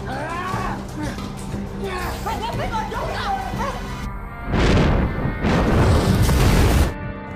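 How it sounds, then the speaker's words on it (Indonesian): A loud, roaring blast as a thrown gas canister explodes, after a stretch of noisy commotion and voices, followed by a second sustained burst of rumbling noise that cuts off abruptly. "Fitrah yang kesal langsung melempar tabung gas dan seketika meledak"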